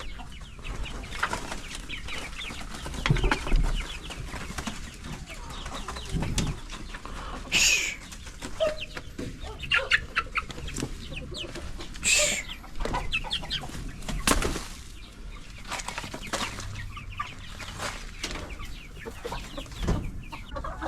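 Brown and white chickens clucking and squawking as they are let out of their coop, with scattered calls and a couple of louder bursts over a busy farmyard background.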